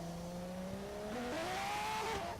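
A drift car pulls away from the starting line, its engine note climbing steadily and loudly as it accelerates, with tyre noise rising under the revs.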